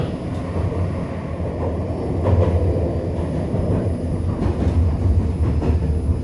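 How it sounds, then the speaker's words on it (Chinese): Nanhai Tram Line 1 rolling into its terminal station, a steady low rumble of wheels and motors inside the car with slight swells in loudness, no talk. "列车即将到达终点站林业东站，请全部乘客带齐行李物品下车。"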